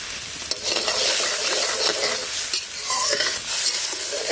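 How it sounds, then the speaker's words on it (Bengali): A pan of curry bubbles and sizzles continuously as the gravy simmers, with a faint scrape or two of stirring. "সুন্দরভাবে ঝোলটা ফুটছে"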